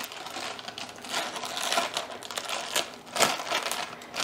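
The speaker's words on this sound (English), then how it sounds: "cut this plastic off" Plastic wrap being cut off a 24-inch roll of DTF transfer film, close crinkling and snipping with bursts of rustle and scraping, no talk.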